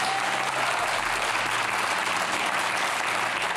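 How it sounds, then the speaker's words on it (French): A studio audience gives loud, sustained applause for the boxer Ludmilla, a thick, even roar of clapping hands filling the space from start to finish, with no talking. "vous pouvez applaudir très fort Ludmilla"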